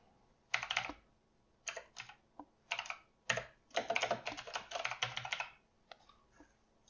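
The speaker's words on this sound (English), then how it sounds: "we can actually type in the code here" Code is typed on a computer keyboard in quick irregular clusters of crisp key clicks separated by short pauses, close and clear against a quiet background.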